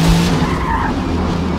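A Corvette ZR1 in Forza Motorsport, with a loud engine roar and a tire-squeal-like rasp, steady and close throughout.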